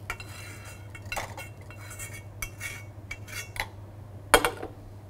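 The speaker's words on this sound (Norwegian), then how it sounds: "Så tar vi grønnsakene og blander sammen med eggemassen." Vegetables being stirred into an egg mixture in a bowl: scattered metallic clinks and scrapes of a utensil against the dish, one sharper clink near the end, over a low steady hum.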